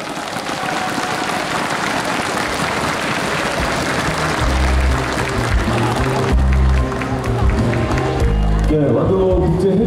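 An audience applauds at the Wando International Seaweed Expo in Korea, a dense, loud, steady clapping that fills the hall while a voice speaks over it through a PA.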